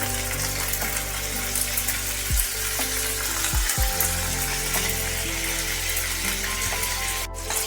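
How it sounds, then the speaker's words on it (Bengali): Mustard seeds and curry leaves crackle in hot oil for a dhokla tempering, a steady close sizzle with a few sharper pops and a brief clatter near the end. "এবার দিচ্ছি একটু সর্ষে, এবার এর মধ্যে কারি পাতা দিয়ে দিলাম।"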